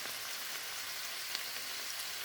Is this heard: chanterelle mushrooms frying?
yes